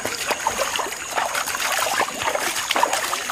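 Water trickles and splashes steadily as a body is rinsed during a cleansing ritual, a continuous close patter of small droplets with no clear pauses.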